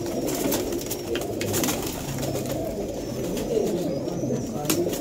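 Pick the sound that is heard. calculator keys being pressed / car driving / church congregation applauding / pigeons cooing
pigeons cooing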